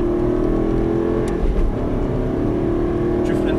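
An Aston Martin V8 Vantage engine roars at high revs, a steady loud drone with a brief surge midway, as if the throttle is held wide open.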